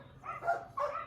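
Distressed dogs let out short whimpering and yelping barks in two close bursts, nearby and moderately loud, with no talk over them.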